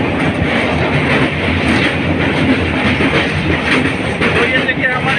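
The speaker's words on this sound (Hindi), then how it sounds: "तो ये देखिए हमारी ट्रेन गंडक नदी को पार कर रही है।" The Janhit Express crossing the Gandak river, heard from on board as a steady, loud rumble with rhythmic rail clatter throughout.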